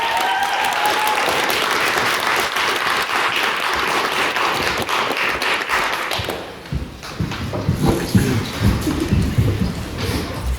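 Audience applause at a student debate on Irish culture, a dense sustained clapping that fills the room, then thins and fades into scattered claps and low murmur in the final seconds.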